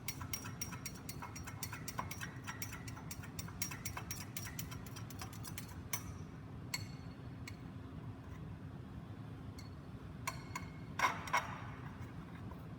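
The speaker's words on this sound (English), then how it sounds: "I'm going to mix that down to make sure I get as much of it as I can out of the mortar." A pestle works in a mortar, mixing a powder into liquid and scraping the bottom, making quick, faint, irregular ticking and scraping sounds over a soft background hum, with no talking.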